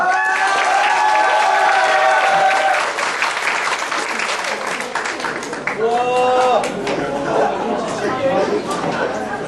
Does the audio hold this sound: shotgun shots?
no